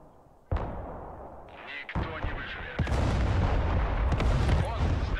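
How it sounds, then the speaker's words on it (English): Artillery in Broken Arrow fires off several heavy, booming shots with sharp onsets, each followed by rolling rumble that stays loud and continuous through the rest. "I'm counting on him shooting with his artillery"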